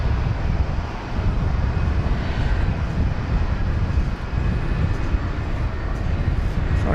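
An Airbus A350-900 jet airliner at DFW Airport at night produces a steady, moderately loud broadband roar with a constant low rumble throughout, heard with no voices.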